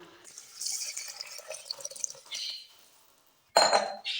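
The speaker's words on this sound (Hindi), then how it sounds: "अब हम डाल लेते हैं सब्जियों में पानी।" Water is poured into a cooking pot of mixed vegetables for Pakistani vegetable pulao, making a splashing, trickling pour for about two seconds before tapering off, then a sudden loud clatter near the end.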